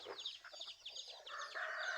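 Chickens on a temple ground in Lampang, Thailand, give rapid clucking alarm calls after spotting a hawk, a quick run of sharp, faint cackles rising into a denser squawking burst.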